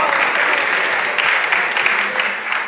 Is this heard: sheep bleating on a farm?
no